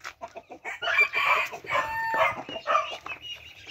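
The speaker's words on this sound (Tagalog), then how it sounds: "Tapos ito yung rooster naman natin na ayam semani cross sa silky." An Ayam Cemani cross Silkie rooster crows once nearby, a drawn-out, clear call after a few soft clucks, with faint farmyard bird sounds around it.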